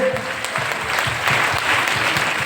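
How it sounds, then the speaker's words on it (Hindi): A crowd at a business meeting in a resort gives loud, sustained applause, a dense wash of clapping that runs steadily throughout. "एक जोरदार ताली सभी लोग अपने लिए"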